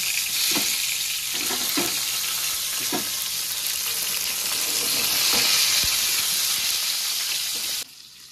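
Eggplant pieces fry in hot mustard oil with black cumin seeds and a green chili, giving a steady, close, loud sizzle with a few soft stirring knocks, then cutting off abruptly near the end.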